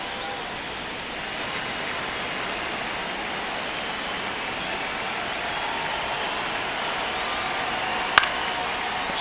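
A baseball stadium crowd in MLB The Show 26 fills the ninth inning of a one-run game. Its steady, wash-like murmur and applause run throughout, with one brief sharp click near the end.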